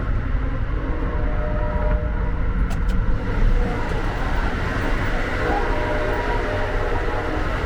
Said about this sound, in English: on the Amtrak train, specifically train 98, the Silver Meteor